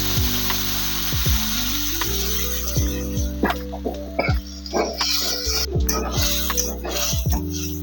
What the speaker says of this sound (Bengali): এরকম লাল লাল করে ভাজতে হবে এই রকম পেঁয়াজটা ভাজা হয়ে গেলে